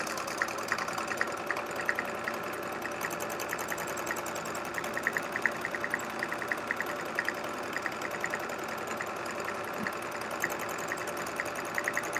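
A sewing machine runs steadily at speed while free motion quilting back and forth on a chevron quilt, a close, even mechanical whir with rapid needle ticking and no talking.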